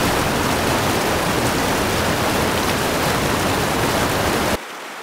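The Uksunai river rushing at a crossing point, a loud broad steady roar of flowing water that cuts off abruptly near the end.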